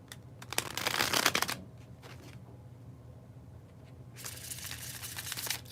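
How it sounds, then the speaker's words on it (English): Two crisp bursts of a deck of cards being bridge shuffled: a riffle followed by a cascading bridge, a quiet pause, then another riffle, close and clear. "Here it is, the bridge shuffle."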